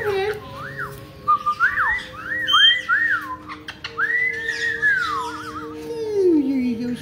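A pet bird whistles a string of sliding, swooping notes and short phrases indoors, fairly close, with a person's voice talking softly to it in between.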